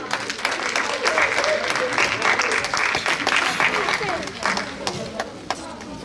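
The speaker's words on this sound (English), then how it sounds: "winner again! Round of applause!" An audience claps for a raffle winner at a religious birth celebration, a lively burst of applause with scattered voices and chatter mixed in, tapering toward the end.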